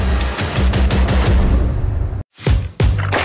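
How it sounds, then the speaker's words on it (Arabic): Rapid repeated cannon fire as a sound effect, a dense barrage of booming blasts, a brief silence, then two more heavy shots. "الله مدفع"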